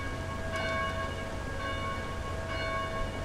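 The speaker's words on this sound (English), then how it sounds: "we're gonna have to settle down the bells first before we talk to anybody in here" Church bells ring inside St. Christopher's Church in the Dead Island video game, sustained tolling tones with fresh strikes at intervals over a low steady rumble, moderately loud with no talking.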